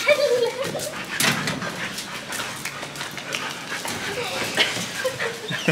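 Dogs at a dog shelter in Mexico, with several dogs barking and whimpering at close range, mixed with people talking over a busy background.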